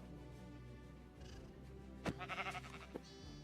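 A video game sheep gives a few short bleats in quick succession near the middle, fairly faint over a steady low background hum with musical tones.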